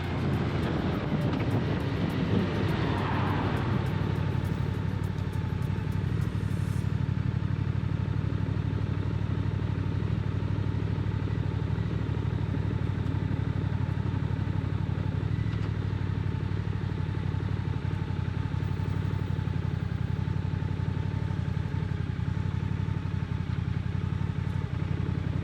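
A motorcycle ridden in freezing weather, about 1 °C outside, gives a steady, loud engine drone with wind rush that holds constant for the whole ride, with no talk.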